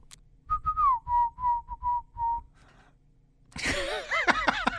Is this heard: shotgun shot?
no